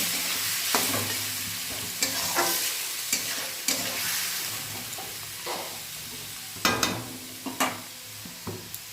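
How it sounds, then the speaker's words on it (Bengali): Onions coated in salt and turmeric fry in oil, with a continuous sizzle and repeated sharp scrapes and taps of a spatula stirring the pan. "পেঁয়াজটা ভাজা হয়েছে একটু চিনি দিয়ে দিলাম"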